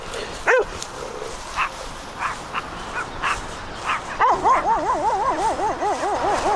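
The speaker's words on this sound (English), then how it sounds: "there are little dogs out there." Small dogs yip and bark in scattered bursts at a distance behind a fence along a hiking trail, followed by a steady warbling whine that rises and falls.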